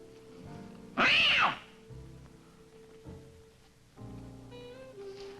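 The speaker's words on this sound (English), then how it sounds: "Oh, those cats." Cats yowl in a loud, drawn-out burst near the start, then fainter meows follow over background music in a film scene set in a New Orleans apartment.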